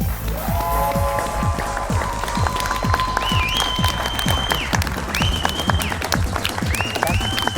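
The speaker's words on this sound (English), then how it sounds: "There's got to be South Johnston people clapping" Studio audience clapping at the close of the Brain Game high school quiz show, South Johnston versus Lee Early College. Loud, sustained applause with sharp, rhythmic claps under bright electronic musical tones.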